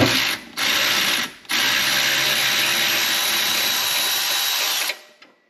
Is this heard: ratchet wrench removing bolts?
yes